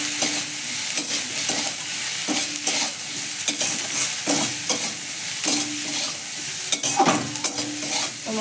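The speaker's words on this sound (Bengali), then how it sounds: "তো মশলাটা আমার ভাজা হয়ে গেছে।" Salt, turmeric and chilli powder fry in a pan for a spicy Bengali chutney, with a steady close sizzle and repeated scraping strokes of a spoon stirring through the spices.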